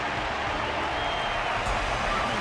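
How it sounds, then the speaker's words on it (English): A dense wash of audience applause and crowd noise rolls steadily throughout a fighting match in Honkai: Star Rail, constant and fairly loud with no clear individual claps. "The audience's passion stays strong. Their constant applause is a salute to this resilient Balabagian fighter."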